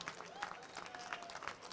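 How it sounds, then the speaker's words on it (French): An audience at a live agricultural fair broadcast claps, a faint, short burst of applause with crowd murmur and a voice over it. "Ça s'applaudit, s'il vous plaît, mesdames et messieurs."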